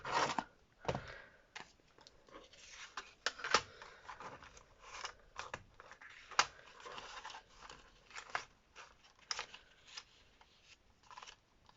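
Scissors snip through paper tags made from recycled newspaper in quick irregular bursts, short crisp cuts with rustling paper between them, close and fairly quiet.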